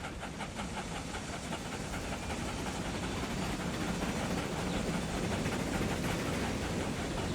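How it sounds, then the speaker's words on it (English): Train rolling past in the Transport Fever 2 game, a steady broadband rumble and hiss with a faint rhythmic clatter, loud and continuous throughout with no speech. "there's another train coming in"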